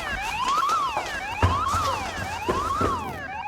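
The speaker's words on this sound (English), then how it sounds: "Alarm" A bunker security alarm wails in repeated rising and falling siren sweeps, about three cycles, loud and piercing, with a few sharp knocks and thuds underneath and no talking.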